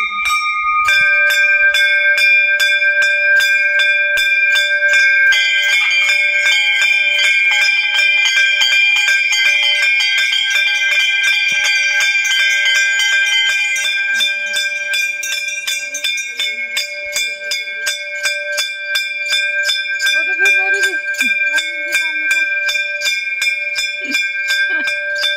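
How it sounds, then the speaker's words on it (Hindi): A temple bell rings at the Maa Chandika shrine, a loud metallic clang followed by several more strikes that blend into a long sustained ringing shimmer, fading slightly toward the end, with faint voices in the background. "घंटी बजा यहाँ पर, घंटी बजी।"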